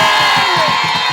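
A church congregation applauds and cheers together, making a dense, loud wall of crowd voices over steady rhythmic clapping throughout the short burst.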